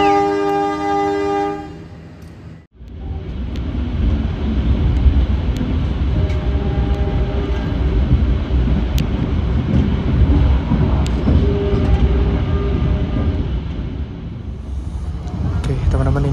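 A train horn sounds at first, then a heavy rolling rumble of rail cars builds and continues steadily as the Blambangan Ekspres passenger train departs Pasuruan station in Indonesia.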